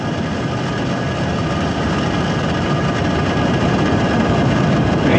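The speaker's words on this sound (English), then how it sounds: "Ignitions. Engines full power. And liftoff." Falcon rocket engines at liftoff on a satellite launch, a steady, dense, distant roar that slowly builds in loudness with no break.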